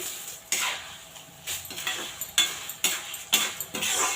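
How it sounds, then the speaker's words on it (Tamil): Peanuts and dal roasting dry in a pan for temple-style puliyotharai, a spoon scraping and clinking against the metal in repeated strokes about every half second, close and fairly loud with a gritty rustle between hits and no talking. "ஒரு டூ செகண்ட்ஸ் அப்படியே வறுத்துக்கிட்டே இருங்க பருப்பு வந்து கருகிடக்கூடாது"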